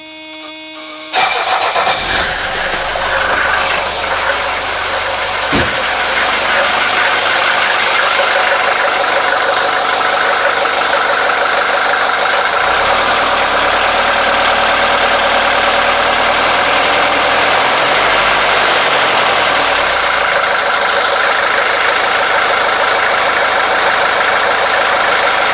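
A 1983 Mercedes 240D diesel engine cranks, catches and settles into a steady, loud, clattering idle that runs on for over twenty seconds.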